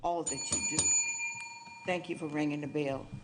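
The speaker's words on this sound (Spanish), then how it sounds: "Gracias por sonar la campana." A bell rung at a county commissioners meeting gives a bright ding that rings on and fades over a second, between stretches of people speaking.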